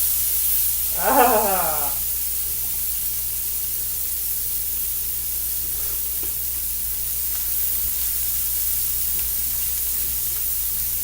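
A burger patty sizzles in a pan after being flipped, a constant hissing spray of frying that holds steady throughout, with one brief vocal exclamation near the start.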